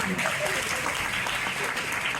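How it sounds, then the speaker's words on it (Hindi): A youth camp audience of girls at a Gayatri Parivar event claps, a continuous, fairly even patter of many hands that persists throughout with no pauses. "ताली बजा दो आपने"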